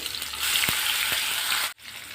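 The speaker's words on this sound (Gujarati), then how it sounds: "અહીંયા ડુંગળી એડ કરી દઈશું સાથે જ અહીંયા આપણે ટમેટા એડ કરી દઈએ" Onion and tomatoes frying in a hot pan make a loud, steady sizzle with a couple of soft knocks, then cut off abruptly near the end before a quieter hiss resumes.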